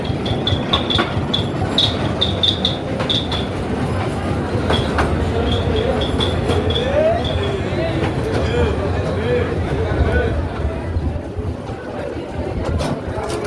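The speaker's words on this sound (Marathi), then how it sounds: "इथे हे मिनी ट्रेन." A mini train at Elephanta Caves rumbles and clatters along its rails nearby, with bursts of high squealing from the wheels, while people talk over the noise.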